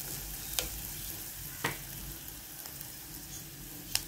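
Small sardines roasting in a pan: a faint, steady sizzle with occasional soft pops and scrapes, close and quiet, no talk.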